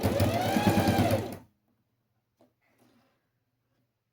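A sewing machine stitches a glasses case with a fast, steady mechanical whir lasting just over a second, close and loud, then stops, leaving near silence with a couple of faint clicks.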